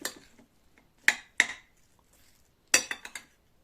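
Spoon clinks against a bowl while pickled cucumber salad is stirred, a few sharp separate knocks with quiet pauses between them, close and alone.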